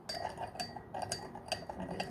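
A beetroot face mask mixture is stirred in a bowl over hot water, with quick repeated scrapes and light clinks of a spoon against the bowl, close and quiet.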